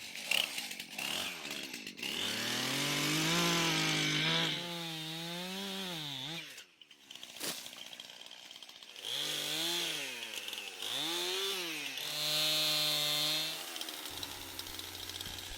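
A two-stroke chainsaw cuts pollard willow on a farm, close and loud, its engine surging and falling through cuts. There is a brief idle gap midway before it revs hard again and settles to a low idle.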